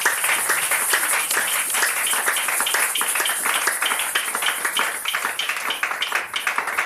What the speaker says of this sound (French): Tu peux donner un tonnerre d'acclamation pour le Seigneur des Seigneurs.